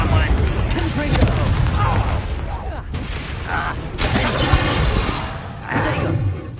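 A Confringo blasting spell explodes in Hogwarts Legacy, giving loud, dense bursts of blast and shattering debris across a busy combat scene, with voices in the game heard along with it.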